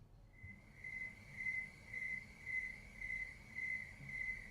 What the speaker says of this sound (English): Let's try it again. And crickets.